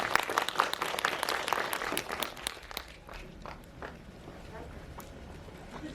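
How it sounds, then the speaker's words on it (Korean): Applause from an audience at a Korean film event, broad steady clapping that starts dense and thins into scattered claps, with voices faintly mixed in. "아무튼 박수 부탁드립니다"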